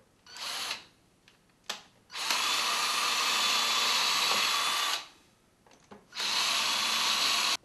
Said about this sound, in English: I'm going to drill a couple pilot holes for some screws